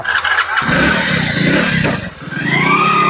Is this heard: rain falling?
no